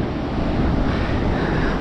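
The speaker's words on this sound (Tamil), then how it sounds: "அலை அந்த மேலேருந்து அடிச்சுட்டு அழகாக அந்த ராக் புல்லில் வந்து படுது." Sea waves crash onto rocks at Mirissa beach in southern Sri Lanka, a loud, continuous broadband wash of surf with wind buffeting the microphone and no voices.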